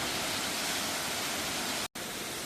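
Loud, steady roar of Ngao Waterfall in a national park in Ranong, Thailand, a large and powerful fall, sounding as dense continuous rushing water close by, with one very brief dropout near the end.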